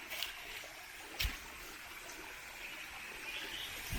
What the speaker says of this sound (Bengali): এই যে এটা হচ্ছে সে ফার্স্ট ঝর্ণা।